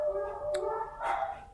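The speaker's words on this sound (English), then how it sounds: "My dogs are barking again." Dogs bark faintly in the background of a quiet indoor room, giving a couple of soft, distant, muffled bursts.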